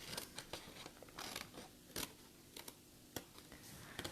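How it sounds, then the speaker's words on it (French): Scissors cut paper for an Easter table decoration, with a series of short, crisp snips at an uneven pace, close and quiet against a calm room. "c'est pour ça que je vais le faire au ciseau"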